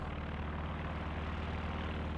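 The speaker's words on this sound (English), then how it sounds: "we're seeing a recon plane coming in" A recon plane flies over in the Company of Heroes 2 video game, a steady, loud propeller engine drone that holds evenly throughout with no talk.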